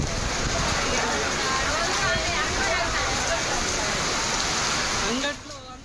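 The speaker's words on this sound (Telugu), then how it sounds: "జిల్లాలోని పలు మండలాల్లో ఈదురుగాలతో కూడిన వర్షం కురిసింది." Heavy rain pouring in a dense, loud, steady hiss that cuts off abruptly near the end, followed by a brief voice.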